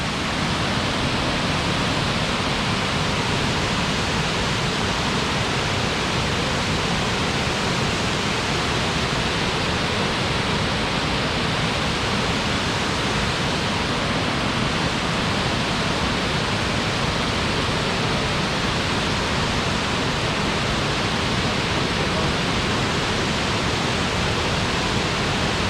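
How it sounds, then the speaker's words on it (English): A waterfall at Tallulah Gorge State Park roars with a constant, dense rush of falling water, loud and unbroken from start to finish with no voices. "See the nice waterfall."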